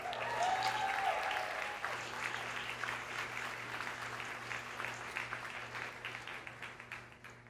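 Steady audience applause with scattered cheers fills an awards ceremony honoring police officers, loud at the start and tapering gently over several seconds while the clapping continues.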